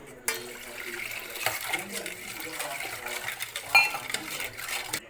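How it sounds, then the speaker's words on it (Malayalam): Water poured into lemon juice and stirred, with clinking of a spoon against a glass and soft liquid sloshing, close by, interspersed with intermittent taps. "ഇനി ഇതിലേക്ക് 1 കപ്പ് വെള്ളം ഒഴിച്ച് നന്നായിട്ട് ഇളക്കാം."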